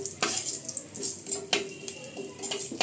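Cumin, turmeric and asafoetida tempering sautéed in oil in a pan on a gas flame, a soft sizzle with several sharp scraping stirs of a spoon, fairly quiet and close, no talking.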